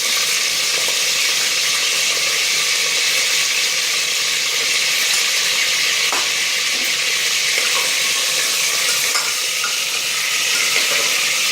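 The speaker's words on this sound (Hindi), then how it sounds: "बस इसमें मैं इसको डाल करके और अदरक लहसुन का पेस्ट डाल करके इसको थोड़ा भून लेंगे" Mutton bones frying with ginger-garlic paste for nihari, a steady loud sizzle with crackling spits, continuous and close throughout with no voices.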